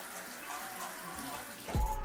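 Water running from a household tap, a steady faint wash that suddenly strengthens near the end as the flow hits louder, with no talking over it.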